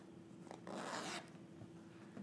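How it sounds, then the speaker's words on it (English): A zipper on a handmade pair of jeans is pulled open along the fly in one quick, close rasping zip of about half a second, set against a quiet room with no talking. "So when you open up your zipper,"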